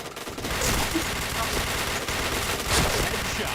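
Dense, continuous gunfire from a shooter video game, rapid overlapping shots filling the whole stretch at steady loudness, with a faint voice now and then underneath.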